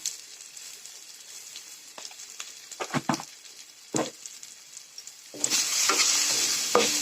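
Vegetable curry with ginger and garlic frying in a pan, quiet sizzling broken by scraping stirs and clatters, then a louder, sustained sizzle as more goes in near the end.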